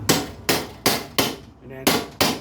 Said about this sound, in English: hold that baby in there and just tap lightly to begin with to get it to cut through the aluminum